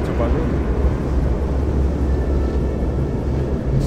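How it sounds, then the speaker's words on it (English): A propeller airplane engine drones steadily and loudly in Return to Castle Wolfenstein, a continuous low rumble that fills the whole stretch with no pauses. "the plane is waiting to take you back to Berlin."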